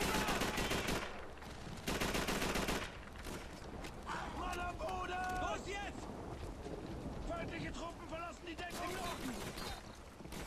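Gunfire inside a building in Call of Duty 3, with loud bursts of automatic shots and heavy blasts opening the clip, then continuing rapid shooting in a busy, noisy mix. Talk runs alongside the battle.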